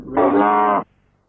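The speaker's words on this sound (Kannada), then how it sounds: "ಹಸುವಾಗ್ತಾ ಇದೆಯಾ?" A single loud, close cow moo, a sustained tonal low call lasting just under a second, then quiet.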